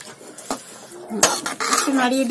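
Fish curry of tengra catfish being stirred in a pot on the stove, giving clinks and scrapes of a utensil against the metal pot, close and moderately loud.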